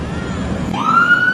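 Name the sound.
fire truck siren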